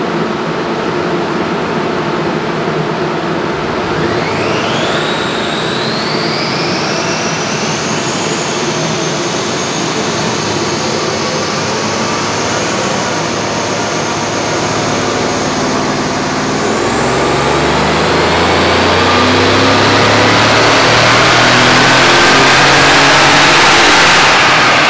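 A turbocharged 5.5-litre Mercedes-AMG ML63 engine revving hard on a dyno, a loud sustained roar with a rising whine that sweeps upward and holds, filling the whole stretch without talk.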